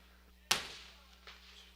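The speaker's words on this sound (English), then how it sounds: "That's fireworks, not lightning." A single firework goes off in the distance near a baseball field during a summer evening game. One sharp bang rolls away and is followed by a fainter second pop about a second later.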